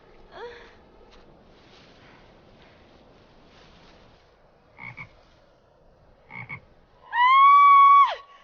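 A frog croaks in the video game Travelers Dimension Police: two short, soft croaks come first, then a long, loud, sustained croak at the end over an otherwise quiet background.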